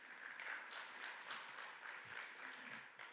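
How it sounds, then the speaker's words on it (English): Conference audience giving a burst of applause, many hands clapping in a dense, steady patter from a moderate distance, sustained throughout without pause. "Another hand clap for Mr."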